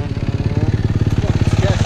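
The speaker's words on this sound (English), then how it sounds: "Oh, he getting his throttles up here." Yamaha YZ dirt bike engine with the throttle worked, a rapid pulsing two-stroke-like putter with a fast, even beat, close and loud, with a voice talking over it.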